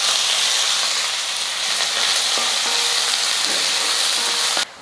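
Three medium onions, finely chopped, frying in hot oil in a kadai, giving a loud, steady sizzle and hiss close up with occasional stirring scrapes, before the sound cuts off abruptly near the end.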